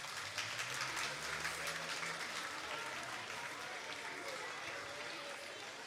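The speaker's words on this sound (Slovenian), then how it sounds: "En velik aplavz za njih." An audience claps steadily for the 290 choir singers gathered at a choral festival in Slovenia, broadband applause that fills the hall for the whole stretch and fades slightly toward the end. A faint voice sounds beneath the clapping.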